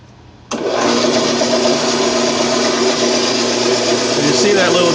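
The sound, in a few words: band saw running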